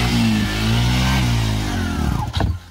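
A motorcycle engine revs hard and pulls away, a loud close roar with rising and falling pitch that fades and sputters toward the end.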